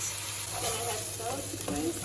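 Drained, rinsed rice tipped into a hot pot of spices for Tanzanian pilau gives a steady sizzle with soft stirring scrapes, lasting only a couple of seconds.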